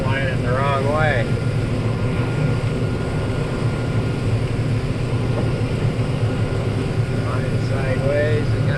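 A drone flies over a cornfield during the corn harvest, giving a constant, fairly loud droning hum with a few faint chirping sounds on top.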